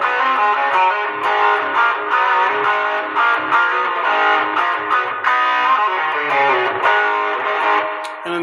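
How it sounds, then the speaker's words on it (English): An electric guitar played through a Tube Screamer overdrive effect with the drive turned nearly to maximum rings out loud and continuous, with sustained distorted chords and notes and no talking. "So the tube screamer."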